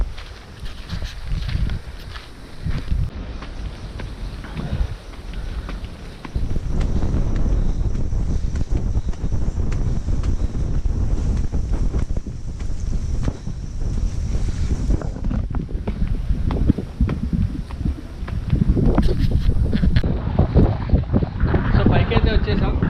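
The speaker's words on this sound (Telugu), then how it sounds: "ఫుల్ గాలి వస్తుంది ఇక్కడ." Strong wind on a hilltop at Narsapur Forest Park in Medak District, buffeting the microphone in loud, rough gusts that swell and ease, with a voice talking through it.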